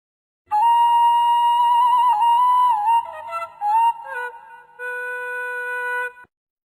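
A breathy bamboo flute plays a clear sustained melody of a few long notes, with slight wavering pitch, alone and close.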